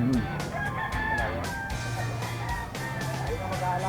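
A bullstag rooster at a gamefowl farm crows repeatedly amid other birds' clucks and calls, moderately close, while someone talks over the noise.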